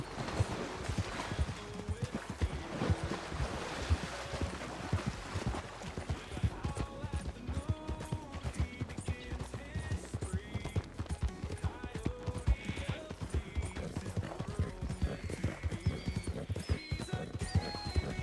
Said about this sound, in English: I know he's a fake horse, but I never make him run full speed uphill.